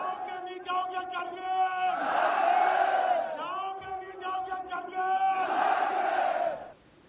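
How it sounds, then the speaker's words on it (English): A huge protest crowd gathered in Gilgit Baltistan, Pakistan, roars and chants in loud, sustained waves, swelling twice to full voice before dropping off at the end. "A crowd of hundreds of thousands have been gathering here."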